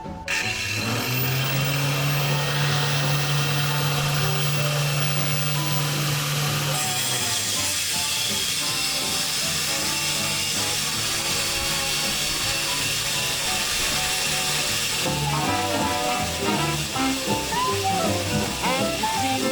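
A Makita GA5030 angle grinder whines continuously under a 3 kg load, harsh and loud, with its pitch dropping and shifting as pressure changes, close up.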